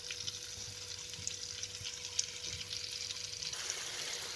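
Chicken liver frying in a pan makes a continuous close sizzle with soft bubbling and occasional faint clicks and taps, alone and without speech.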